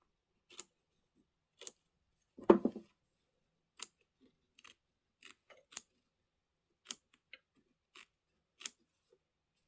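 Scissors trim quilt block fabric in a quiet room, about a dozen crisp, close snips spaced irregularly, with one longer heavier cut near the start and no talking.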